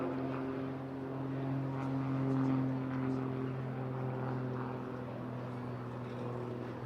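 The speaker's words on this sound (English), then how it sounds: "DJ will now bring the tutor around for his departing wave" A Tutor jet trainer passes at an airshow, a distant, steady engine drone that swells briefly and then eases off, heard on its own.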